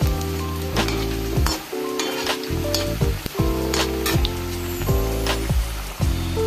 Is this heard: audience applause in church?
no